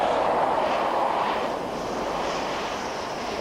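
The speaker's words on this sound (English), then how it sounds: "Now here we see the slow fly past" A steady, loud broadband roar of an aircraft making a slow flypast at the 1993 Biggin Hill International Air Fair, nose held high, with a wind-like whoosh that changes little across the clip.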